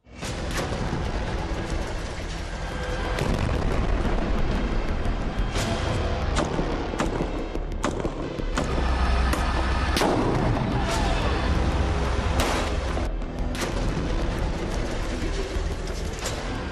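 Loud, continuous barrage of explosions and gunfire at Al-Shifa hospital in Gaza during the Israel-Hamas war, with sharp cracks and heavy booms overlapping throughout and no clear speech.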